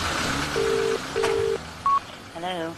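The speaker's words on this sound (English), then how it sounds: "But first, there's Viv to phone." Telephone number being dialed, a few short electronic keypad tones in an uneven sequence, close and clear over a low background hum.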